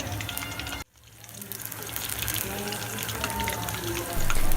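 Lahori-style fish pieces fry in hot oil with a dense, steady sizzle and crackle. The sound is briefly cut short, then returns and swells louder near the end.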